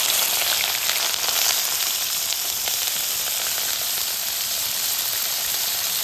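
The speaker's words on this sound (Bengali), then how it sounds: "এবার গরম তেলের মধ্যে দিয়ে দেব।" Beans, carrots and cauliflower fry in hot white oil, a loud, steady, dense sizzle that hisses continuously up close for several seconds without any speech.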